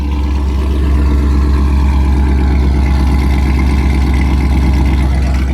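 A loud Chevrolet Camaro engine idles steadily up close, a deep continuous rumble with a slight lift in revs partway through and no talking.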